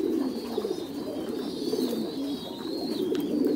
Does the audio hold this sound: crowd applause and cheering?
no